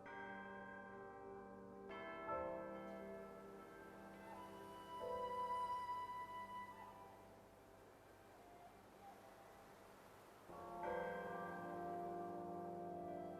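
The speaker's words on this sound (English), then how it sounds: "Ring the bell tower and reveal your path." A bell tower rings in Sky: Children of the Light, with long sustained metallic tones swelling and overlapping. Fresh strikes come at intervals, and the resonant chimes ring out alone.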